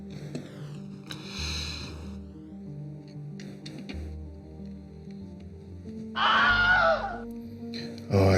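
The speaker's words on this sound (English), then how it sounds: "I just heard a Wilhelm scream." A Wilhelm scream sound effect rings out briefly and loudly over a steady background soundtrack of music and effects during a LEGO Batmobile build.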